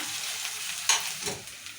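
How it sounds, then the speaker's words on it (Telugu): Chopped onions and chillies fry in hot oil in a pan for an ivy gourd and moong dal curry, a steady close sizzle with a couple of brief stirring scrapes and bursts. "ఇప్పుడు ఉల్లిగడ్డ మిరపకాయ వేసుకున్నాం కదా"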